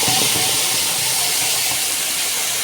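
Onion paste hits hot oil already seasoned with whole cardamom, cinnamon and a couple of cloves while cooking doi pona (fish in curd), giving a steady, loud, close hissing sizzle with no talk.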